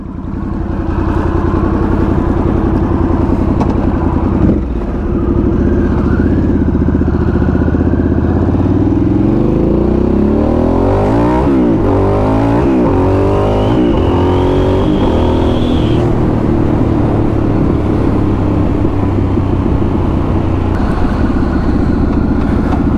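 A motorcycle engine roars loud and close, revving repeatedly with rising and falling pitch sweeps as it accelerates, then settles into a steady drone, with no talking.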